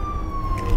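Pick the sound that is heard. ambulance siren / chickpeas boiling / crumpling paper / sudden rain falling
ambulance siren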